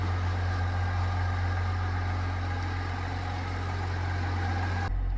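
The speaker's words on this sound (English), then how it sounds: "While charging, you can rev the engine to 2 to 3 RPMs to help the charging process along, like this." A GMC Yukon idles steadily while jump-starting a GMC Sierra truck, a low continuous engine hum with a faint hiss, nearby and even throughout until it cuts off abruptly near the end.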